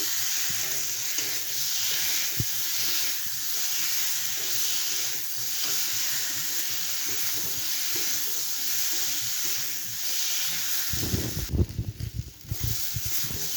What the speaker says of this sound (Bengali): ডিম আর আলু দিয়ে নেড়ে চেড়ে